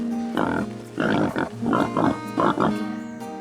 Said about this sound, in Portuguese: Esse é o porco.